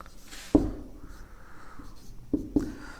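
Marker or chalk scratching across a classroom board during a Hindi punctuation lesson, with sharp taps at each stroke start and a faint sustained scrape between them, close and clear with no talking.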